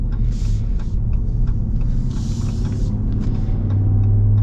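A 2024 Ram Rebel GT pickup with a Hemi V8 and all-terrain tires rolls along, its engine a steady low rumble under a droning cabin hum, with a few faint knocks and clatters as it goes over a small bump.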